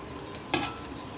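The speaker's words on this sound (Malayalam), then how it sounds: "മസാലയൊക്കെ നല്ല ഫ്രൈ ആയി വന്നിട്ടുണ്ട്" Masala spices frying with softened tomatoes and small onions in a pan, a steady close sizzle with a couple of brief scrapes or stirs.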